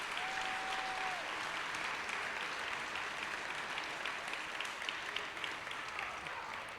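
Steady applause from the audience at the 2019 Reapercon awards ceremony, a continuous wash of clapping at moderate distance without a break.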